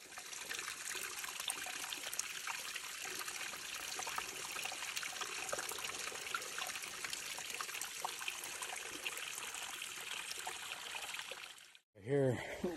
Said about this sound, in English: Here, it's a little stream, but some of the, it caved in.